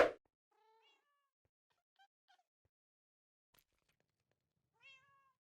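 Cat meows in a survival video game: three short, faint meows spaced a second or two apart, the last a little louder, with near silence between them.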